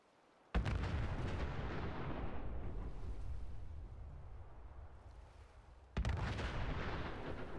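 Artillery fire in Fallout 4 during a survival playthrough booms out in two heavy, close blasts several seconds apart, each one followed by a long roaring rumble that slowly fades, with no talking.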